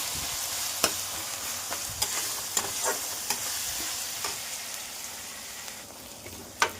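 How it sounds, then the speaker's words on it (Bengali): Onion frying gently in a pan while a chicken dish is cooked, a soft steady sizzle with several sharp taps and scrapes of a spoon stirring against the pan. "পেঁয়াজটা একটু ভাজা ভাজা হবে, পেঁয়াজটা একটু গলবে।"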